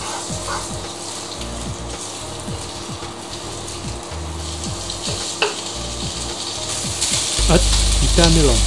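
Starch-coated pork stir-fried in a pan for goya champuru, a steady close sizzle with repeated scraping strokes of a utensil, growing louder and fuller toward the end.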